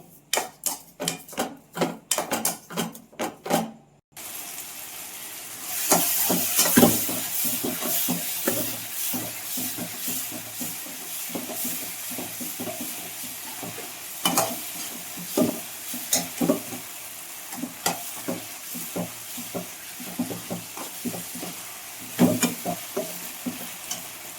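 Ginger garlic paste with tomatoes fries in a pan for a potato and brinjal masala curry: rapid spatula clicks at first, then a steady sizzle broken by repeated stirring scrapes and taps.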